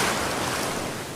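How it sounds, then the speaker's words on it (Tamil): Sea waves surge and wash onto a shore, a steady, loud roar of surf with wind noise buffeting the microphone throughout, no voices. "எப்படி அலை அடிக்குது"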